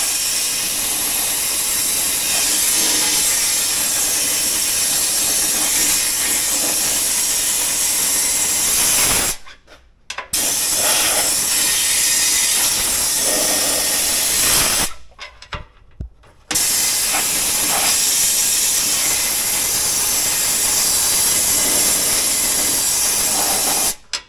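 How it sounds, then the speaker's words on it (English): A long nozzle sprayer blasts WoolWax undercoating onto the underside of a Ford F150, a loud, continuous pressurized hiss that cuts off twice for brief pauses before resuming, close and without talking. "so I switched to the long nozzle sprayer"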